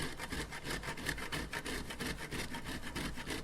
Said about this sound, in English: now I'm grating the cheese